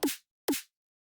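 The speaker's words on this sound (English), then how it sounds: "I can't remember if it was a drum and bass snare or if it was a dubstep snare" Two punchy dubstep-style snare drum sample hits, evenly spaced about half a second apart, each with a bright crack and quick decay, alone in silence.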